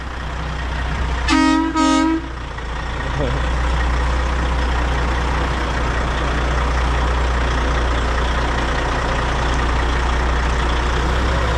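A truck engine idles and rumbles steadily nearby as it pulls into a garage, with a short double horn toot near the start and a constant low drone throughout.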